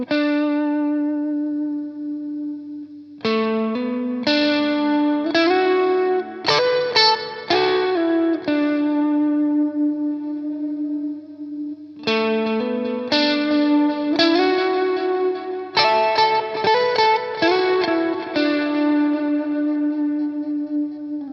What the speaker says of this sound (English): you can have just the overdrive pedal with some reverbs, or with no reverb if you wanted it